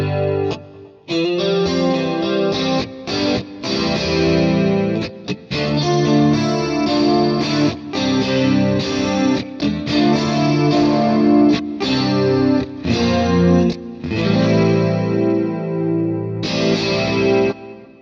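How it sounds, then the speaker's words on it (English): Guitar played through a Kemper amp with a chorus effect and detune, shimmering wavering chords and short phrases ringing out fairly loud, with brief gaps between strums. "It's definitely chorus."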